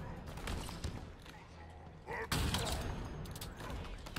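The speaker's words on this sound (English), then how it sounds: "There is a lot of gunfire in here." Gunfire during a Halo Forge campaign level: bursts of shots and mechanical clatter, with a louder burst about halfway through, mixed under a voice talking.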